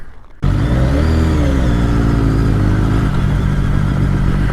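Motorcycle riding along the Suffolk coast, its engine starting abruptly and then holding a loud, steady close drone with a slight rise in pitch.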